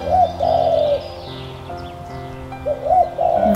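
A dove coos as a storybook sound effect, with soft, rounded calls repeating at the start and end over a steady tonal backdrop. The cooing is clear and fairly loud.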